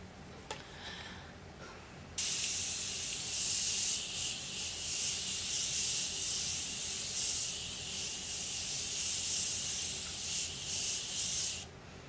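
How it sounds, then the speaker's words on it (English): A Morphe setting spray mists in one long, steady, close hissing burst lasting about ten seconds, preceded by a couple of small clicks and handling sounds in a quiet room. "And to pull it all together, my Morphe setting spray."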